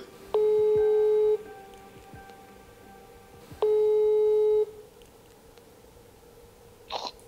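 Two long steady electronic ringback tones sound on a telephone line while calling someone, evenly spaced several seconds apart, with faint background noise between them.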